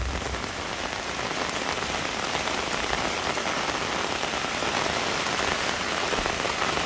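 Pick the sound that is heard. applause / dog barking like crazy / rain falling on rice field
rain falling on rice field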